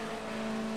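A BMW 320TC touring race car's engine in the Project Cars racing game, a steady loud droning tone held at constant pitch, with no talking.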